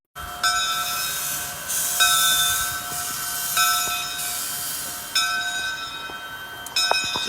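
A steam train hauls three flatcar loads, one of rail and two of machine tools, and steady hiss and rail noise carry throughout. The sound comes in surging pulses every second or two, with a faint whistle-like tone.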